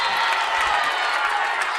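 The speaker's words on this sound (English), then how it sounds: "Crowd starting to get involved a little bit" Crowd cheering at a high school boys basketball game between Jefferson and Chanhassen, a dense steady roar of voices with some clapping, sustained and fairly loud.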